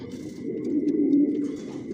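Racing homing pigeons coo steadily in their loft, a soft low rolling murmur that swells and fades across the moment, with faint rustling and distant twitters above it and no voices.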